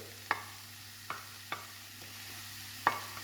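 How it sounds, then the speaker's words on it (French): Chopped red and green peppers cooking with browned onions in a pan: a soft, low sizzle broken by a few sharp utensil taps against the pan. "on va laisser cuire encore une dizaine de minutes, tant que les poivrons se marient bien à l'oignon"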